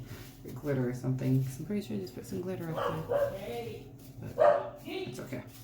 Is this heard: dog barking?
yes